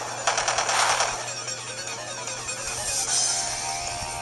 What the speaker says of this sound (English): We're going to start out with a Dark Pulse